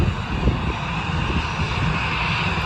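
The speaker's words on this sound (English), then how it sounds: "if you're wondering what that racket is on the other side of the screen, that is an EasyJet A320 Neo" EasyJet Airbus A320neo jet engines roar loudly and steadily, a broad continuous rumble near the airport with no voices.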